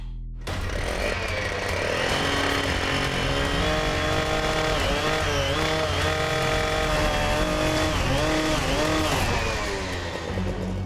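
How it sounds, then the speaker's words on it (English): A loud gas-powered chop saw cutting through steel hinges on a trailer door, its high engine whine rising and dipping steadily as the blade bites, droning continuously and close with no speech. "You got a gas-powered chop saw and you're standing on a ladder."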